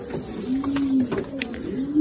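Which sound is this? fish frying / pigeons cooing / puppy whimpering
pigeons cooing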